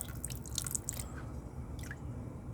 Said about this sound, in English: We'll pour off some of this dirty water to start off.